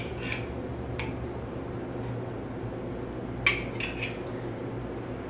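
Small spoon scoops into yogurt cups, soft scrapes and a few light clinks, one sharper tap, close over a low steady room hum.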